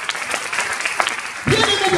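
A church congregation applauding for Jesus, the clapping swelling loudly in the second half over a speaking voice.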